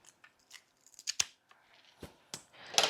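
Florist's shears snipping a fall-flower bridal bouquet handle shorter, a few separate sharp crunchy cuts spaced over a few seconds, close and fairly quiet with no talking.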